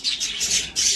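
A young sparrow chick being hand-fed millet chirps in quick, loud, high tweets, four bursts in close succession, up close with no talking.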